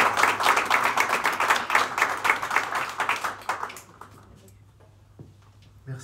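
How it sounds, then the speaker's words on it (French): A small audience at a business panel event applauds the guest speakers. The clapping is brisk at first, then thins out and fades to near silence after about four seconds. "On peut les applaudir."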